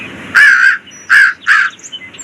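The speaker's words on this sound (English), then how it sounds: "No, Priya, that is not a sparrow, but a crow" A black crow calls three times, loud and close, each caw harsh and nasal, the first longest and the last two shorter and quicker, with faint bird chirps after.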